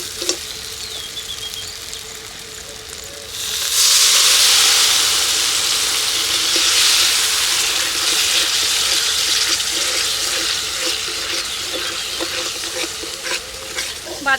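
Water poured into frying ground peanut masala bursts into loud, steady sizzling and hissing, with stirring scrapes, in a village kitchen.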